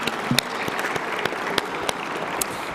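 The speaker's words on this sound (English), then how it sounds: "let's give a round of applause" Enthusiastic applause from a crowd at an awards ceremony, dense clapping with a few sharper claps standing out, steady throughout.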